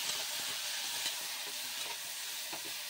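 Spinach being stirred into fried onions in a pan, giving a continuous close sizzle with soft, irregular stirring scrapes throughout and no voices.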